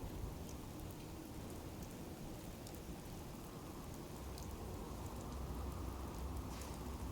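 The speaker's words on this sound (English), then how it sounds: "You're just leaving us standing here in the rain." Steady rain falls in Fallout 4, a dense even hiss of drops on surfaces with faint low rumbling beneath, continuous and unbroken throughout with no voices.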